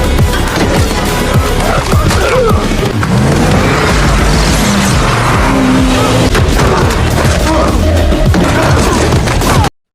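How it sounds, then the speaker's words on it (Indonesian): An action film scene where a car bursts in with tires squealing: a loud, dense mix of engine roar, screeching tires and booming impacts runs nonstop for the full ten seconds before cutting off abruptly. "Tiba-tiba sebuah mobil menerobos masuk"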